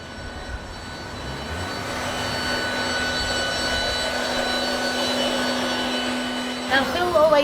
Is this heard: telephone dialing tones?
no